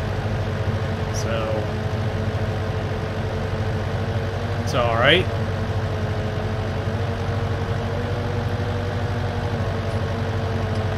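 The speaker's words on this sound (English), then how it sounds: "Pretty good little mowing tractor." A small mowing tractor in the video game Farming Simulator 19 hums steadily throughout at a low, even idle-like drone, while a person talks briefly over it.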